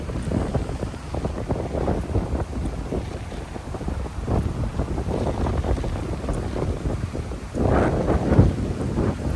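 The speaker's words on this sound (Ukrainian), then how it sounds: "Але чим нижче я спускаюсь, тим менше вітер." Strong wind buffets the microphone continuously at a resort in Hambantota, Sri Lanka, with rough gusty rumbles that swell louder toward the end; no voices.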